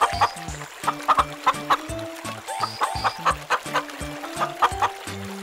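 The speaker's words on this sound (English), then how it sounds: "Chicken." Chickens cluck in quick, repeated bursts, close and loud, with a steady rhythmic pattern of short calls.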